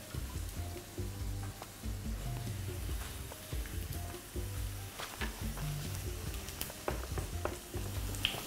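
Peppers frying in oil in a pan, a steady close sizzle with crackling pops and occasional stirring, soft and continuous throughout.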